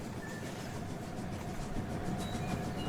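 A train rolls along rails in the Rolling Line model railway game, a steady rumbling wheel noise with faint rhythmic clatter and occasional brief high squeals, held at a moderate level throughout with no voices.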